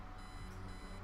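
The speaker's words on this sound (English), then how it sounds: "obnoxious alarm clock. The noise makes me want to stab myself with something dull" An alarm clock rings in the adventure video game Kathy Rain, giving a steady electronic beeping tone that persists without pause, moderately loud and alone.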